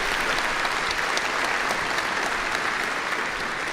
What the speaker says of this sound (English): Let's give him a warm round of applause for that.